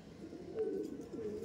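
A male pigeon gives a brief low coo, two soft rolling notes in quick succession, close but quiet against a faint background.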